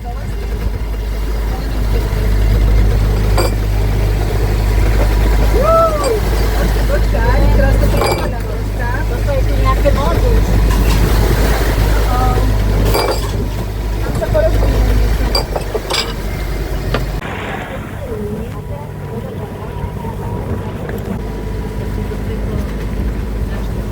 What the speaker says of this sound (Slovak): išli sme skoro celú cestu na motore